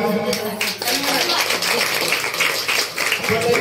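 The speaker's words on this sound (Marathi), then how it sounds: "टाळ्या मारा." A group of pilgrims claps together at the farewell of a tour, sustained applause mixed with voices and chatter throughout.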